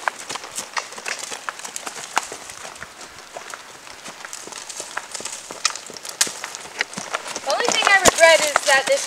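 Hooves of a wild mustang drum in an irregular loping rhythm on the ground of a small pen, fairly close, with a voice near the end.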